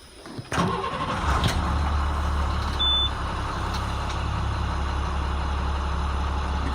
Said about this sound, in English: I'm gonna turn on the bus to charge it all the way to 120.